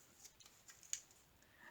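Scissors snip through paper, a handful of quiet, close cuts in quick irregular succession, with one sharper snip standing out and no talk.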